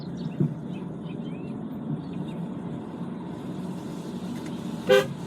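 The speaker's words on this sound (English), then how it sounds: "Just sound the horn in case anyone's a coming" A short car horn toot near the end, over steady engine rumble and road noise from inside a vehicle moving slowly around country corners.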